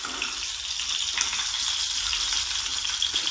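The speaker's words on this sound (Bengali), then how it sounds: "হয়ে গেছে আমার মাছ ভাজা মাছ তুলে নিচ্ছি" Rohu fish pieces fry in hot oil with a steady, close hiss and crackle that holds without break.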